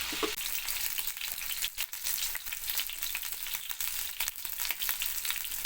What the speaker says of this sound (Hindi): इस तरह अच्छे से फ्राई होना है चिकन के पीसेस